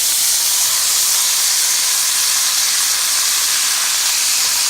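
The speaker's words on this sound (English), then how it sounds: "I'm really just going to try to sear each side so it kind of gets that really, really nice crispy edges" Meat sears in a hot pan on the stove, a loud, steady, dense sizzle and hiss that holds without a break from start to finish, with no voices over it.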